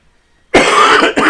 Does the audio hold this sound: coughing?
yes